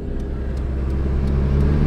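A car drives along with a steady, loud low engine drone and road rumble heard from inside, with no voices.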